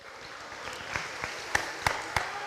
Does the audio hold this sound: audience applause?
yes